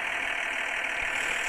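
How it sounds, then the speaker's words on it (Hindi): An old tractor engine running steadily, a constant dense mechanical roar heard up close and fairly loud throughout, with no talk. "पुराना वाला ट्रैक्टर था जो इतना धुआं भीग रहा है भाई, इसी को हम चला रहे हैं अभी।"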